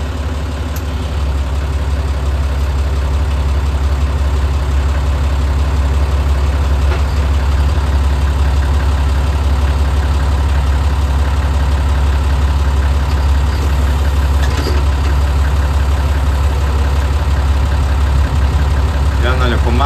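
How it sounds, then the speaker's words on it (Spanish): A tractor engine idles steadily after a cold start, with a low, even rumble and constant mechanical chatter, close and loud, unchanging throughout. "Está bien frío el motor y arrancó 10 puntos"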